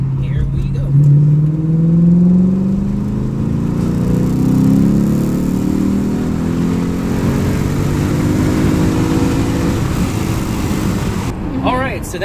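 Lexus IS F with its catalytic converters deleted makes a full-throttle third-gear pull from about 2,000 to 7,000 rpm, a loud continuous engine roar climbing steadily in pitch for around ten seconds before easing off.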